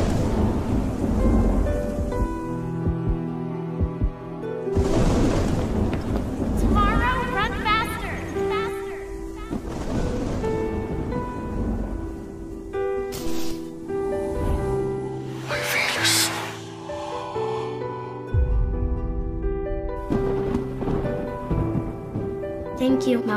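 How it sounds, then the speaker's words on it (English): Thunderstorm with rain in a movie scene: rolling thunder and steady rainfall under people talking and a musical score, loud and sustained throughout. "The storm is coming."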